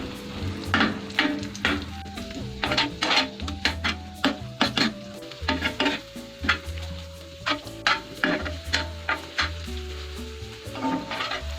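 Beaten eggs cooking in a pan over a medium-to-low flame for an egg shami kabab ghotala, with a steady sizzle, frying crackle and repeated stirring and scraping clatter from a spoon against the pan.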